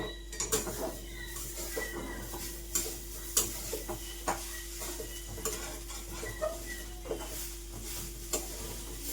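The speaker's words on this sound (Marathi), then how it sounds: "मी तो आता मस्त भाजून घ्यायचं" Modak filling roasting in a pan with ghee sounds as scattered scraping and stirring clatter from a spoon against metal, over a faint sizzle and constant low hum, with no voices.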